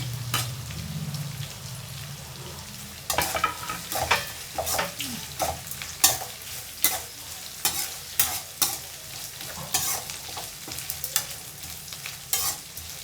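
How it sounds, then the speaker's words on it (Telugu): Sliced onions, green chillies and curry leaves fry in oil for an okra fry, giving a low sizzle broken by frequent quick spatula scrapes and taps in an uneven rhythm, close by with no talking. "ఆనియన్స్, పచ్చిమిర్చి, కరివేపాకు అన్నీ వేసుకొని"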